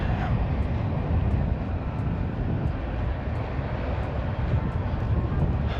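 A constant loud engine drone of an airplane, steady and broad, filling the whole stretch without any talking.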